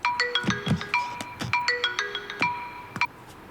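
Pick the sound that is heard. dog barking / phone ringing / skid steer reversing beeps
phone ringing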